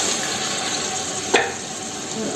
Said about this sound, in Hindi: तो हम पानी शामिल करने लगे हैं